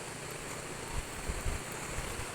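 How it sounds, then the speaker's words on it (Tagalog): Steady rushing water of a mountain river fills the clip, a soft continuous broadband wash with faint low rumbles, no voices. "Lagaslas lang ho ng tubig."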